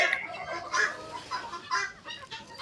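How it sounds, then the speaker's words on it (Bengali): Layer hens cluck and squawk as they eat feed on a farm, several birds overlapping in a close, busy, uneven chorus with short bright calls. "আপনারা দেখতে পারবেন আসলে মুরগিগুলো এগুলো কিভাবে খায়।"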